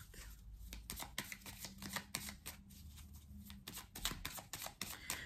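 A deck of tarot cards is shuffled and drawn by hand, giving a close, rapid series of papery riffles, snaps and flicks with no talking.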